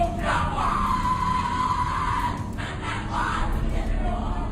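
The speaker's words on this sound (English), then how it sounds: "What you're hearing is the first recording ever made of the Skull and Bones initiation ceremony." A crowd yells and bellows during a Skull and Bones initiation ceremony, with voices overlapping in a sustained shouting roar. The recording is muffled and noisy.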